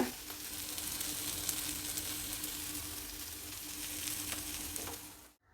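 Ridge gourd palya with grated coconut frying in a pan, a steady close sizzle and crackle that holds level throughout, then cuts off abruptly at the end, with no voices.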